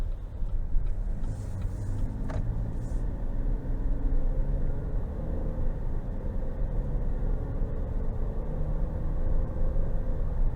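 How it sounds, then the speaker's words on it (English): A 2023 Buick Enclave Avenir driving down the road, heard from inside as a steady low rumble of road and engine noise, continuous and even, with a brief higher sound near the start. "Let's go ahead and take it down the road for a quick test drive."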